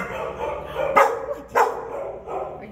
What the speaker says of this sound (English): Are you just your begging bark?